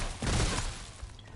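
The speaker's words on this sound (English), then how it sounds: "It's kind of like a 3-round burst sniper rifle" A three-round burst sniper rifle firing in Remnant: From the Ashes, one short muffled burst of quick, close shots that fades into a faint tail.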